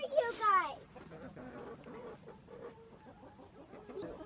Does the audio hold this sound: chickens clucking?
yes